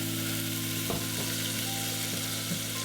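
Hot oil sizzling in a pot for homemade ramen, a steady hiss over a low hum with a few soft pops and spatters.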